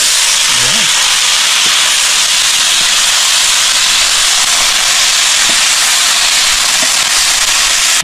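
Onion, garlic and ginger sizzle steadily in hot cooking oil, a loud continuous hiss filling the whole stretch with faint clicks underneath.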